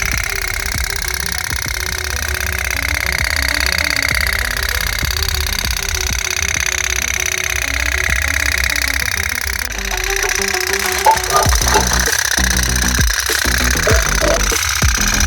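A toy steam boat, powered by a small lamp flame, runs in a basin of water with a steady, close buzzing drone that later turns to rougher, uneven rattling.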